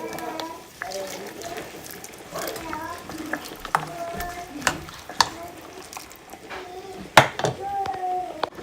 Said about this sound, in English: You stir them in.